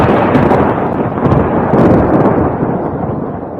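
Loud, continuous thunder-and-lightning sound effect from a Dragon Ball anime: a dense, rumbling roar with crackling bursts that runs for several seconds, with no speech.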